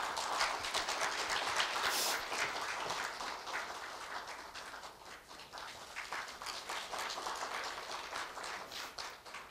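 Applause at a university staff retirement ceremony during a medal presentation: scattered, moderately faint clapping that starts fuller and thins into uneven individual claps.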